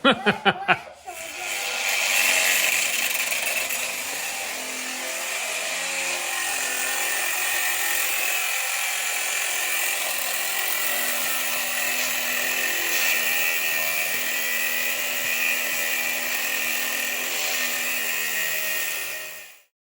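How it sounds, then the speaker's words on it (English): A metal-cutting power tool, either a reciprocating saw or a cut-off wheel, grinds through metal during a winch install, a loud, steady, harsh whine that runs for most of the stretch before stopping abruptly. "we'll get it cut through with either the Sawzall or the death wheel"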